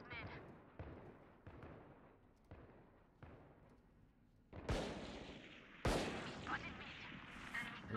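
Explosions and gunfire in the video game Valorant: a series of sharp distant shots, then two loud close blasts that ring out, with a player talking quietly underneath.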